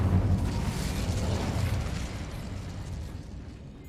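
A fiery Incendio spell blast from a video game bursts out loud and close, a heavy booming rush that rolls on and slowly fades over several seconds.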